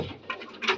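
Pigeons let out of their enclosure, heard as a short burst of soft fluttering and scuffling with a few brief cooing or chirping notes, close by.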